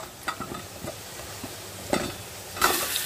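Potatoes fry in hot oil with a steady crackling sizzle, joined by a few scraping stirs and a louder burst of spitting near the end, heard close up.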